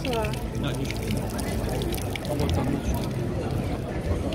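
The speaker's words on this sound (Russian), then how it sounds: "О, вода пошла." Water from a hand pump in Leipzig, Germany splashes and pours steadily close by while people talk over it.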